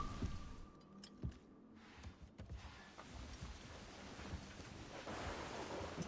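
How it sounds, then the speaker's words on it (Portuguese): Steady rain hisses faintly aboard a ship in Assassin's Creed Rogue, alongside low rumbles and surging water noise, with a few soft thumps, all quiet and distant. "Aqui tá chovendo."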